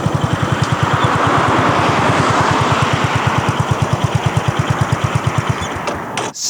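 Honda GB350S single-cylinder motorcycle engine pulling up through acceleration, a loud, steady thudding exhaust beat close by that carries on for several seconds before cutting off abruptly at the end.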